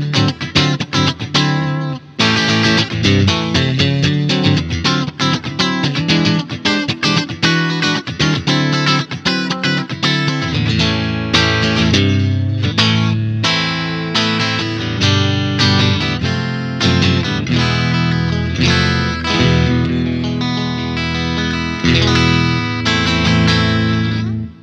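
Heavily distorted electric guitar, an Umeda ST-20 HSS with humbucker and single-coil pickups combined, plays dense, sustained chords and riffs, loud and continuous, with a gritty, saturated tone throughout.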